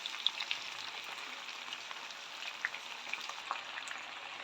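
Chayote tops dropped into a pan of frying chicken, giving a steady, close crackling sizzle with small popping spatters throughout.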